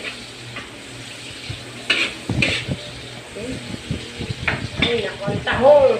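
About eight kilos of mussels (tahong) are stirred in a pot while steaming with Sprite, giving clanking shell-and-utensil scrapes and a low sizzle, with voices talking over the stirring.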